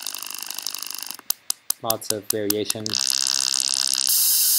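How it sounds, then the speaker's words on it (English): Phase-aligned formant synthesis driven by a phone's accelerometer produces buzzy, vowel-like tones that glide and shift in pitch, broken up by short clicks. A person speaks briefly over the sound. "The output from the network will be synthesis parameters for a kind of synthesis called POF."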